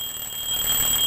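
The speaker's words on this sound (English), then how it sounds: "is that your alarm?" A cartoon alarm clock rings with a steady high electronic tone that holds for about a second and grows slightly louder toward the end, with no talking over it.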